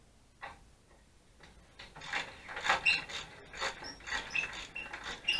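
A hand ratchet loosens the muffler clamp bolts on a 2008 Yamaha V-Star 1100 trike conversion, giving close, fairly quiet bursts of rapid clicking with short gaps between strokes.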